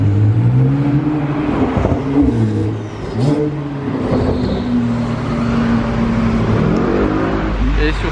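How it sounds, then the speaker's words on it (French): A red Porsche GT3 passes close by on the street, its engine revving loudly with rising and falling pitch sweeps through several gear changes, while someone talks over the roar. "Et sur ce passage de GT3 rouge, je vais terminer ma vidéo les amis."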